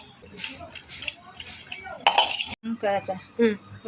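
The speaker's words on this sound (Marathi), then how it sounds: "त्याला असं हलवायचं" A utensil stirring onion with turmeric, Malvani masala and salt in a pan for egg biryani, with close metallic scrapes and clinks in irregular bursts.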